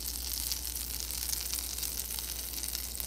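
Brook trout seasoned with lemon pepper and salt cooking in a pan, a steady soft sizzle of frying that holds evenly throughout with no talking.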